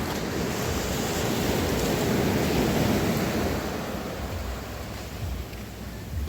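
Sea waves at a beach in Dinadjawan, Dipaculao, Aurora: a continuous rushing roar of surf, close and loud, swelling slightly and then easing, with wind buffeting the microphone.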